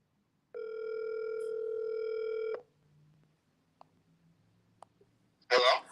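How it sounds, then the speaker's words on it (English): A steady telephone tone with sharp harmonics sounds for about two seconds and then cuts off after a call is hung up, followed by faint room noise and a short burst of noise at the end. "Big Facts hung up."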